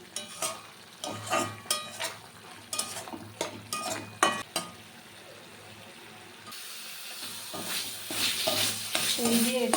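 Young flat beans frying in a pan, with repeated stirring scrapes and clatters over a sizzle that swells into a louder, steady hiss toward the end.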